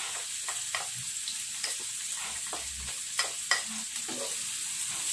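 Onion and garlic frying in tuna oil for tuna pesto give a steady close sizzle, broken by occasional sharp spatula taps and stirring clicks, with no voices.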